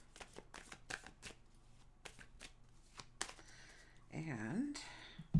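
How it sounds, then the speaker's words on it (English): Tarot cards are given a fast riffle shuffle, rapid crisp clicks and flutters close by that build into a denser ruffling burst near the end. "We'll give them a fast shuffle."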